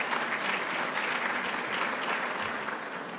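Sustained applause from a luncheon audience, steady and full, filling the whole stretch without talk.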